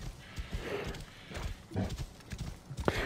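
Hooves of a horse in the video game Assassin's Creed Origins clop in an uneven walking rhythm, fairly quiet and close, with a sharper knock near the end.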